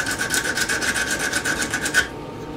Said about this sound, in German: Und jetzt werde ich das Ganze einfach hier mit Schleifpapier